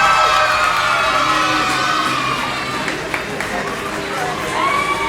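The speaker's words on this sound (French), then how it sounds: "tonnerre d'applaudissements pour nos acteurs en herbe" A school audience claps and cheers loudly for student actors after a stage performance, a dense steady crowd noise with shouts and voices mixed in throughout.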